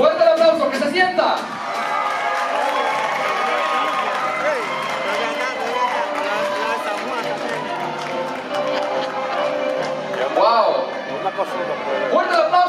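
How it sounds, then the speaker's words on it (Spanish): A pageant crowd at a national beauty contest final in the Dominican Republic claps, shouts and whoops in a loud, sustained roar that fills the hall, with a host's voice calling out over it. "¡Fuerte el aplauso! ¡Que se sienta!"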